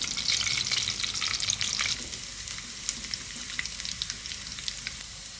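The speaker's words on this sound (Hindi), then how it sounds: "फ्राई करेंगे इसको। गार्लिक फ्राई होने लगा, इसकी खुशबू आने लगी है।" Garlic and cumin fry in hot oil in a pan with a loud, steady sizzle at first that drops to a quieter crackle with scattered pops, close up and with no talking.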